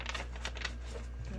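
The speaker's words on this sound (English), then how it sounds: "one last shuffle" Tarot cards shuffled by hand, a soft rapid riffling and flicking of the deck for about a second and a half, close and steady at low level with faint room hum beneath.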